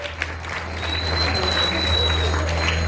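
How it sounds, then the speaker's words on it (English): Audience applause for Madhurya Mataji at a Namahatta tent campaign program in La Mercy, a steady wash of many hands clapping that swells after the first second and holds, with a low hum underneath. "So let's give a round of applause to Madhurya Mataji as well"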